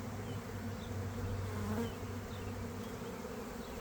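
A dense, continuous buzz of many honeybees flying close by around a swarm, steady and droning throughout with no voices.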